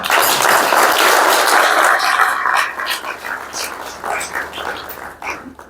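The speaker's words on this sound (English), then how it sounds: "I think you clap for him again." Audience applause at a Kenyan political gathering honoring President Mwai Kibaki, a loud sustained ovation that gradually thins into scattered claps toward the end.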